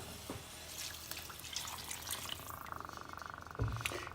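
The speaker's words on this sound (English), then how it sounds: "So let me put some water in there." Water poured from a tap into a pot for gravy, a faint trickling flow with light drips, rising briefly in pitch as the pot fills.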